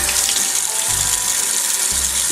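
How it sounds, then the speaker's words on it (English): Warm tap water runs steadily over makeup brushes being rinsed in a sink, a continuous close splashing hiss with slight shifts as the brushes move through the stream. "So now you want to rinse your brushes"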